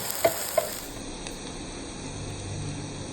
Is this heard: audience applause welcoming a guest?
no